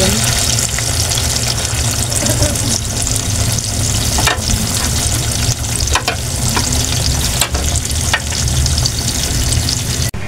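Pork chop frying in a pan gives a loud, continuous close sizzle with occasional sharper crackles and a few brief dips, with no talk over it.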